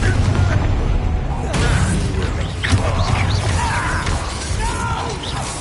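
Confringo blasting spell explosions in Hogwarts Legacy, a loud, dense rumble of booms and shattering debris with layered combat effects throughout.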